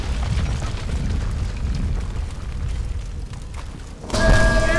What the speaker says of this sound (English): You'd think setting off an explosion underground would be a bad thing, but nope.